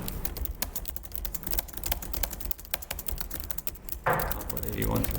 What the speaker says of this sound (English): as soon as I start typing this next thing here